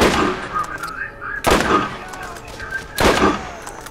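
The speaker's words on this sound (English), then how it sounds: "something's shooting at us" Enemy gunfire in the video game Borderlands comes as three sharp, loud bursts of shots about a second and a half apart, with a faint voice briefly under the noise.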